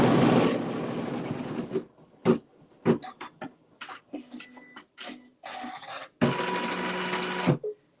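Embroidery machine stitching a tack in neutral thread on fabric for a rose design, close and fairly loud, with rapid mechanical bursts of stitching broken by short pauses and clicks.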